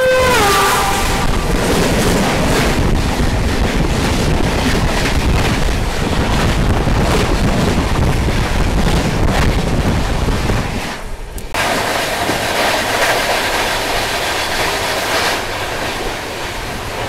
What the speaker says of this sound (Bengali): চলে আসছে ট্রেন নাম্বার 13150 আলিপুরদুয়ার জংশন থেকে শিয়ালদা কাঞ্চনকন্যা এক্সপ্রেস।